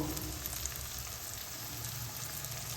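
Spice masala of turmeric, coriander, cumin and Kashmiri chilli powder with salt frying in a pan, a steady close hiss that runs unbroken, with a faint clink at the very end.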